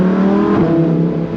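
Lamborghini Huracán Performante Spyder engine revving with the roof open, a loud, close, brassy roar that swells briefly and then holds at a steady, rich pitch.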